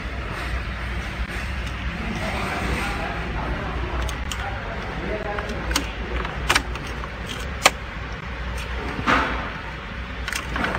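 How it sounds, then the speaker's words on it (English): A new mechanical key for a 2009 Mitsubishi Outlander jangles and scrapes as it goes into the ignition, then clicks sharply a few times as it turns. The sounds are close and come over a steady background hum. "We need to insert the new key and switch ignition on."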